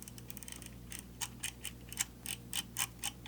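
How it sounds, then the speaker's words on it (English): A small button that switches on a laser attachment on a gun is clicked repeatedly. The clicks are soft, close, and evenly spaced, in a quiet setting. "Just clicking on this little button here."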